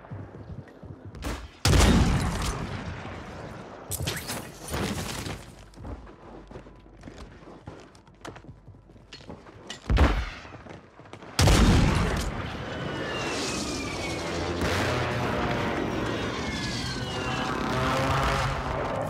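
Gunfire in the Warzone video game, with a MORS sniper rifle: several sharp, loud shots and booms amid sustained bursts of fire and rumbling, dense and continuous with no voices.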